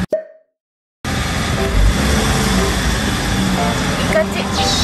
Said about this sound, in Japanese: ちょっとブーンって踏んでください